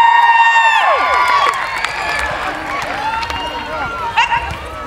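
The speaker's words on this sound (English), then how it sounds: "Give her a big cheer." At the Chase Me Charlie event of the Poynton Show, spectators cheer and shout loudly and close by for a competitor, with excited voices and calls, then fade to a steadier murmur with a later burst.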